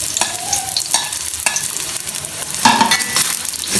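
Onions fry in ghee in an open karahi, a steady loud sizzle broken by the scrape and clatter of stirring, with no talking.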